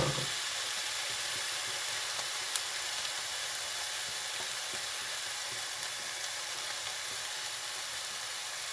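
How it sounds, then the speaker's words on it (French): Browned chicken deglazed in a hot pan, giving a steady bright sizzle and hiss throughout with a faint pop now and then. "Et là, comme c'est bien doré, et ben on va déglacer."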